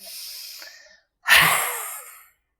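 Deep yoga breaths in a fire-element heat-building session, a softer breath trailing off, then after a short pause a sharp, forceful inhale-exhale burst that fades out, close and alone.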